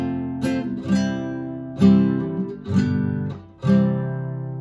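An acoustic-style guitar strums five chord hits as an introduction to Happy Birthday, each strum ringing out and decaying before the next, played alone and close.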